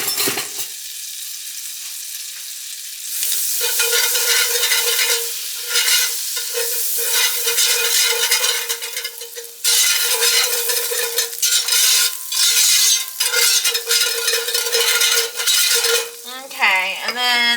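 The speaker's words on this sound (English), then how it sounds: "Now I'm going to add in our butter, which is just 1 tablespoon of butter." A tablespoon of butter melting in a hot pan, a loud sustained sizzle that swells in after a quieter start, with occasional utensil clinks and scrapes against the pan.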